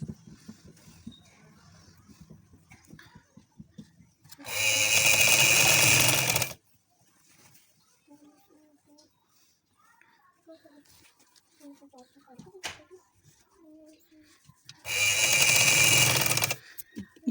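A sewing machine stitches a seam on an umbrella frock in two loud, steady whirring runs of about two seconds each, with someone talking quietly between them.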